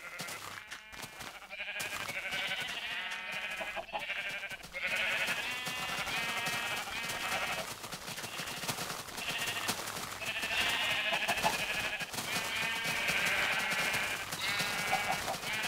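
Sheep in the video game Minecraft bleat repeatedly in a penned enclosure, overlapping calls rising and falling over a steady game background, fairly loud and continuous throughout.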